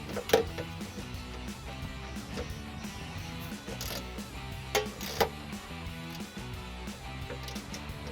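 A ratchet works loose an exhaust bolt on a 2005-2010 Mustang V6 during an axle-back exhaust install, giving quiet intermittent clicks and a few sharper metallic knocks at close range, without talk.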